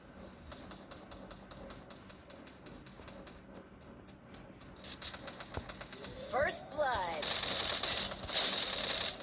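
Rapid bursts of gunfire in the Free Fire video game with mechanical clicks and rattles, getting louder and denser toward the end, with a voice talking underneath.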